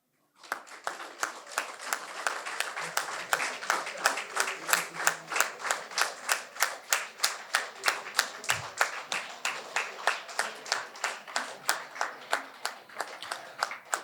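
An audience claps at a painting competition prize distribution, a steady rhythmic unison beat of many hands repeating roughly twice per second, close and sustained.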